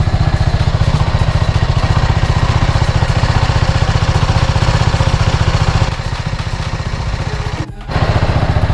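BMW G310R motorcycle engine running steadily with the rear tire spinning on a stand, a loud continuous close-up drone that dips briefly near the end.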